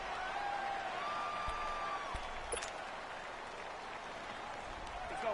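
Simulated Arrowhead Stadium crowd in a Bears versus Chiefs football video game, a steady broad roar and murmur with scattered claps, holding at an even level throughout with faint tonal whistles and calls over it.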